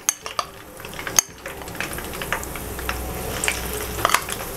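Chicken pakoras bubble and sizzle steadily in oil in a kadai, a continuous close frying hiss with a few sharp clinks and stirring clatters near the start.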